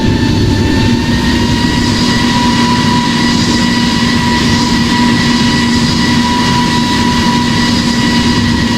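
A Singapore Airlines Airbus A350 landing in the video game Project Flight gives a loud, steady broadband engine drone with a constant low hum and high whine, unbroken and with no talking.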